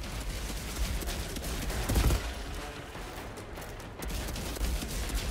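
Gunfire in the video game Outriders crackles as a steady, fairly quiet fusillade of rapid shots over a dense battle din, with a few heavier bursts standing out.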